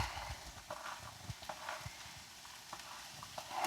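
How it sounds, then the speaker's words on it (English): Onions and carrots frying in a pan, a steady low crackle of sizzling with scattered small pops and stirring clatter, moderately close and fairly quiet throughout. "I don't know if you guys can hear it, but it's sizzling."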